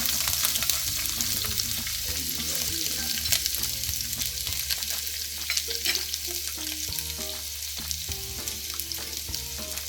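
Sliced onions with cinnamon stick and cloves fry in hot oil in a pan for chicken biryani, giving a steady, loud sizzle with occasional scraping stirs throughout.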